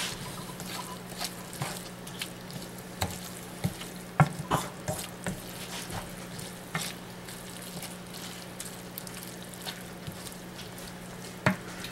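Zucchini noodles stirred in a hot pan, with a steady soft sizzle and scattered scraping clicks of a utensil against the pan, close and alone.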